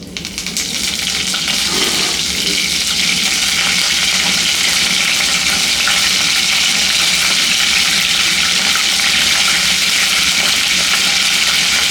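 Cumin, mustard seeds, chana dal and curry leaves frying in hot oil over a low flame for coconut rice: a loud, steady, close-up crackling sizzle that runs unbroken from start to finish, with no talking.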